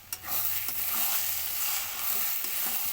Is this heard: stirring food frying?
yes